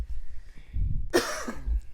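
A single harsh cough bursts out after a brief low rumble, close and fairly loud, followed by a short wheezy tail.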